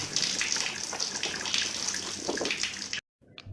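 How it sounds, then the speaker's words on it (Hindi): Water gushes and splashes steadily as a container is filled, a cartoon sound effect heard alone, close and fairly loud, cutting off abruptly near the end. "मैं पहले पानी भर लेती हूँ"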